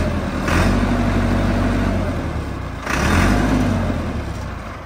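A Massey Ferguson MF385 tractor engine runs close by in a steady low drone, swelling twice into short revs that fade back.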